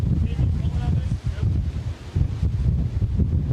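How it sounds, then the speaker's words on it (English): Strong wind from Hurricane Florence, then at Category 1 with the eye wall near, roars and buffets a close microphone in heavy, rumbling gusts that swell and dip throughout. "But that was the strongest wind gust we've had so far."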